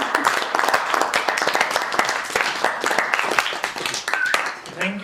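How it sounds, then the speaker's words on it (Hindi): Audience applause at a school session on running in Ladakh, a dense patter of many hands clapping steadily for about five seconds at moderate loudness, with a few voices mixed in and the clapping thinning out near the end. "तालियां बजाने"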